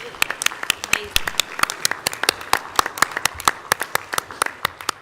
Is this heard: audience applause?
yes